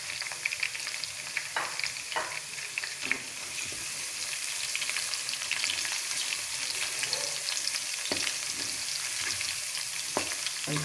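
Cumin seeds frying with chicken in a pan for chicken bhindi, a steady close sizzle running throughout, with a few sharp spoon scrapes and clinks.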